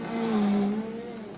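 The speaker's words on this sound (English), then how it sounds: "We choose a manual car, so just engage and start driving." A manual car in the Assetto Corsa racing game idles and revs with a steady engine hum, a smooth sustained drone with a gently shifting pitch over about a second.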